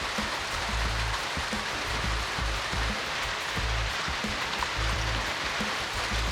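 Heavy typhoon rain pours down in a loud, even, unbroken roar, close and continuous, with no voices.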